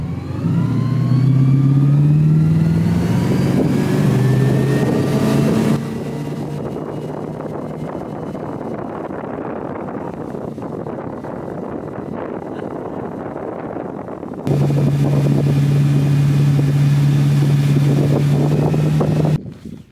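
A 1999 MasterCraft inboard boat with a new engine accelerating onto plane on a lake, a loud close engine drone that rises in pitch, drops to a steady churning roar, then surges again.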